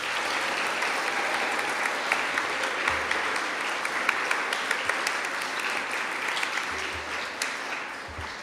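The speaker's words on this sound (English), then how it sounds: "a big round of applause" Sustained, dense applause from an audience at a school awards assembly fills the space, steady and loud throughout with no pauses.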